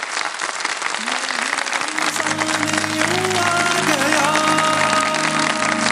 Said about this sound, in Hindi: तीनों के लिए बहुत सारी तालियां